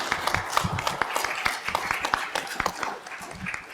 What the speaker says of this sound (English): I'll give a round of applause. Come on.